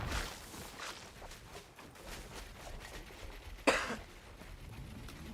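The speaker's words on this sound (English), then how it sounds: "A little cough there." A single short cough bursts out partway through, close and fairly loud against a quiet background of faint room noise and shuffling.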